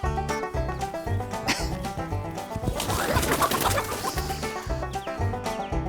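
Farm chickens cluck in quick, repeated bursts at close range, with a busier flurry of squawking partway through and no talking.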